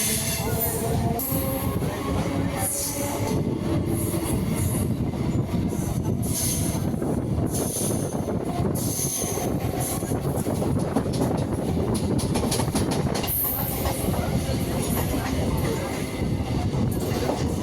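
An EMU suburban local train runs between Gummidipoondi and Chennai Central, with a steady rumble of wheels on track, rhythmic clatter over joints and occasional metallic squeals, recorded close from inside with someone talking underneath.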